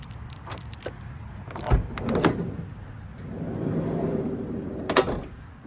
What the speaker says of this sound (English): The door's a little heavy, so you got to give it a little extra oomph to slide.